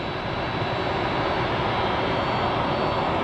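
A FedEx Boeing 767 jet at Tampa airport gives a steady, broad engine roar that stays even and moderately distant throughout the short stretch.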